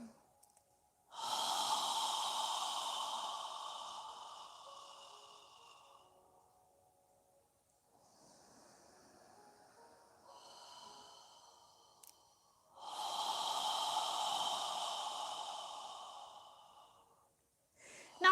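Slow, deep yoga breaths sound up close, with two long, airy exhalations several seconds each and a softer, quieter breath between them.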